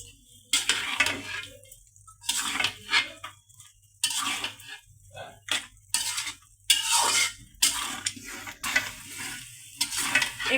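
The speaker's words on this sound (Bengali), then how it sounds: "এখন আলুগুলো দিয়ে ভালো করে নেড়ে চেড়ে নিতে হবে।" Potatoes stirred in a pan with a big fish head, a series of loud scraping, clattering spoon strokes against the pan in irregular bursts, separated by short quiet pauses with a faint sizzle underneath.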